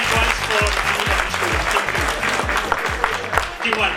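A school audience at an inter-school quiz final claps loudly and steadily, a dense, continuous burst of applause from many hands with a rhythmic low thumping running beneath it.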